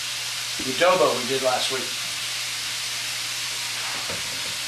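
Chicken sautéing in a pan with a soft, steady sizzle and low hiss running throughout, while someone talks briefly near the start over the cooking noise.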